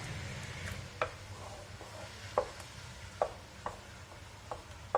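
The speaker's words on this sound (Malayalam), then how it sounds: "ഞാനിപ്പോ ഹൈ ഫ്ലെയിമിൽ വെച്ചിട്ട് തന്നെയാണ് കേട്ടോ ഇളക്കിക്കൊണ്ടിരിക്കുന്നത്" A spoon or ladle stirring thick jackfruit and jaggery halwa in a pan over a high flame, with a low sizzle underneath and several distinct scraping knocks spaced about a second apart.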